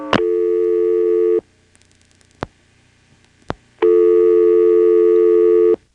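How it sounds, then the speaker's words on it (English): Second dial tone from a 1977 NX1-E telephone switch in Vanceboro, North Carolina, a steady loud hum that stops, then a few faint clicks and two sharp ticks before the tone resumes. "A second dial tone."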